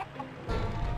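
A chicken clucks in the Shrek 2 video game, a short burst of fowl clucking that turns louder and fuller halfway through.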